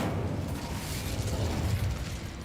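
Incendio fire spell cast in Hogwarts Legacy, heard as a steady, dense, roaring burst of flame with a heavy low rumble that holds for a couple of seconds.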